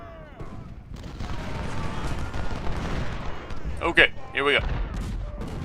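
Artillery and musket fire crackle in the video game Ultimate General: Civil War during the Laurel Hill battle, with rolling bursts and a couple of sharper booms near the end while someone speaks briefly.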